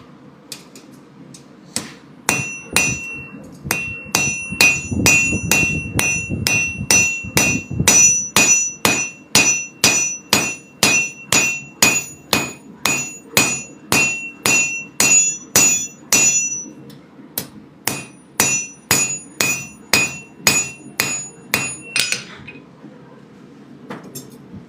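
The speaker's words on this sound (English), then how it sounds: "They'll hear the hammering and think there's something in your trunk." Hammer striking metal in a steady series of sharp ringing blows, roughly one per second for around twenty seconds, loud and close with faint sounds between strikes.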